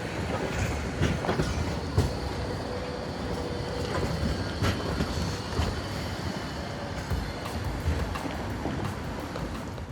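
A Nightjet sleeper train from Zurich Hauptbahnhof toward Amsterdam rolls along the rails with a steady, dense rumble, broken by recurring clickety-clack beats at the rail joints and faint high squeals, heard close from inside the carriage with no talk.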